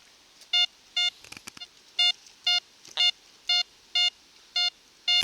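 A Pirate Flibustier metal detector sounding over a large target at 50 cm gives about ten clear, high, evenly spaced beeps. A few soft clicks and handling noises fall between the early tones.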